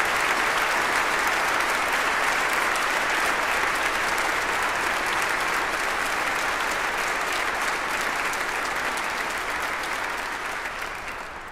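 A seminar-hall audience gives sustained applause for Barry M. Goldwater Scholarship honorees at an honors convocation, a dense, even wash of many hands clapping that fades slightly at the end, with no talking.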